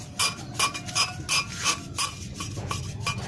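Engine valve being lapped by hand, the valve rotated and rubbed against its seat, giving a rhythmic series of short scraping, gritty strokes at close range, about three per second with no talk.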